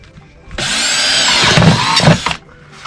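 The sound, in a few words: drilling a hole through a hydroponics reservoir lid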